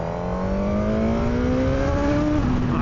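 A 2026 Suzuki GSX-R1000R sport motorcycle engine climbs steadily through the revs, a loud, close, rising whine with no talk over it.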